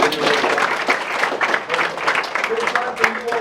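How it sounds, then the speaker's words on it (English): Applause from an audience at a youth sportsmanship event, a steady wash of clapping that holds at one level throughout while some voices carry over it. "Let's give these guys one more round of applause."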